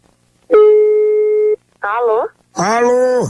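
A loud telephone tone plays while a prank call is placed: one long steady beep, then two shorter wavering tonal bursts, close and clear with no talk.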